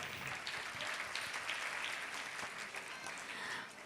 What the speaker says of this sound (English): Please give a great round of applause to everyone.